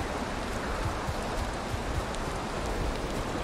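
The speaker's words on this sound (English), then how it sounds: "Hopefully your rain's not too loud for you." Steady rain in the video game Valheim makes an even, hissing patter that holds constant throughout, with no talking over it.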